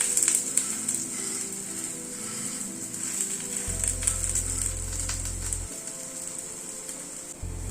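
A flatbread-like breakfast bread frying in oil while being pressed down in the pan, giving a continuous bright hiss and crackle of sizzling oil, steady and fairly loud with faint occasional scraping.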